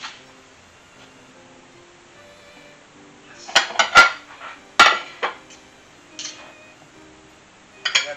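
A freshly baked barbecue chicken and onion pizza, just out of the oven, is cut on a metal pan, producing sparse, sharp metallic clinks and scrapes in short bursts against a quiet background.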